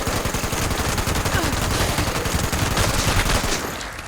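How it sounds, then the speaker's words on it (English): Heavy .50 cal machine gun with a faster fire rate, fired in Fallout 76 during a Pitt Union Dues run, pounding out a dense, continuous stream of rapid loud shots for several seconds before easing slightly at the end. "on this run through, I'm using a faster fire rate 50 cal"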